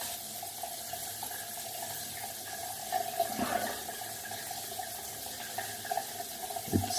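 A tap runs water into a sink during a wet shave, a steady close splash with a few louder bursts of water hitting something.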